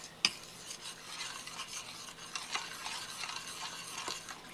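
Cheese sauce for homemade macaroni and cheese cooking in a pan while being stirred, with soft scraping strokes, a sharp clink near the start and a faint bubbling sizzle throughout.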